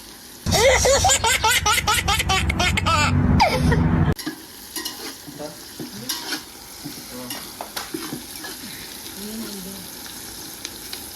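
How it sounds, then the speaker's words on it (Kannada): Chicken biryani stirred and frying in a large pot, loud vigorous scraping and sizzling for about four seconds, then quieter sizzling with occasional stirring clatter. "ಹಿಂಗೆ ಆಡಿಸ್ತಾ ಇರಬೇಕು, ಇಲ್ಲಾಂದರೆ ಜಾಸ್ತಿ ಬೆಂದುಬಿಡುತ್ತೆ"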